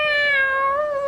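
A long, tonal cat-like howl from the Mass Effect 2 video game, a loud sustained wavering cry with rich harmonics, heard alone and close.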